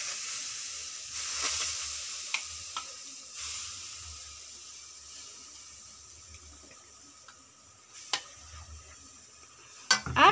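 Homemade mango jam puree is stirred in a pan, giving soft, faint scraping and bubbling with a few sharp clinks of the spoon against the metal toward the end.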